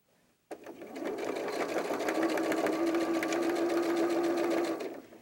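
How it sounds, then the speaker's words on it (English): A sewing machine stitches a 1/4 inch seam along a doll backpack strap, starting with a click and then running in a steady, close, even whir for about four and a half seconds. "Be sure to sew a 1/4 inch seam allowance on both sides."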